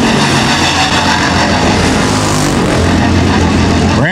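Sportsman class race cars roar around a speedway track in a heat race, a loud continuous engine drone with a rising whine near the end. A public-address commentator talks over the noise.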